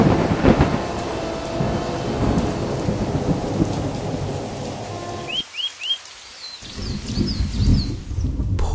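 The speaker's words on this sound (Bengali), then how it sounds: "বাইরে তুমুল ঝড় বৃষ্টি" Heavy thunderstorm with pouring rain on a stormy night, a sound effect in an animated Bengali horror cartoon: a dense, loud roar of rain and rumbling thunder that cuts out abruptly midway, leaving brief bird chirps, then surges back.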